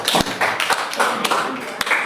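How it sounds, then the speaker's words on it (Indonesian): A classroom of students claps for a student group after a measurement exercise. A handful of separate, close claps and taps ring out among voices and room chatter. "Tepuk tangan buat kelompoknya Alsa."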